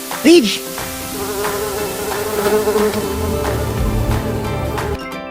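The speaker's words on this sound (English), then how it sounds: "The bees were buzzing. Buzz, buzz, says the bee." Bees buzzing steadily for several seconds, a continuous insect drone under light musical tones with a brief high vocal note near the start.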